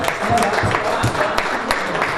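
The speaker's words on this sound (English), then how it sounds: "let's give them a round of applause" Audience applause rises for fans and players' wives at a Lions club honoring event, a dense crowd of clapping with cheers and voices mixed in.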